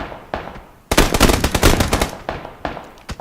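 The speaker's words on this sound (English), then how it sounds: "They're both taking fires from snipers in the windows." Rapid bursts of sniper and automatic gunfire in the video game Battlegrounds, a dense loud volley of overlapping shots in the middle, with scattered single cracks before and after.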